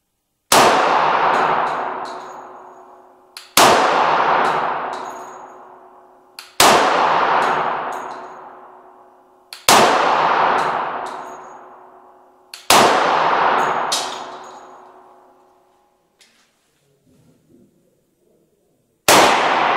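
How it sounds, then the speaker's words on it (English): Five loud pistol shots from a Glock 21 fired at a 25-meter shooting range, each a sharp crack followed by a long ringing decay, spaced about three seconds apart, with quiet faint clatter after the last and a sixth shot at the very end. "Distance to target is 25 meters and I will shoot 10 rounds in each caliber."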